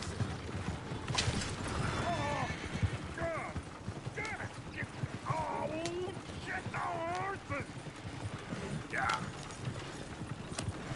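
Clip-clop of horse hooves from a runaway coach in the video game Red Dead Redemption 2, steady rapid hoofbeats under overlapping voices and yelping calls, moderately near.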